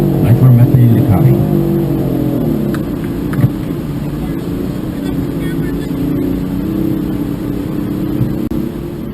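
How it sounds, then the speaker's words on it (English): A motorcycle engine sputters and labours to get going at Bonneville Speed Week on the salt flats, a loud, continuous rough drone with uneven revving and what may be faint voices beneath. "you can hear the bike sputtering and spinning to get it going"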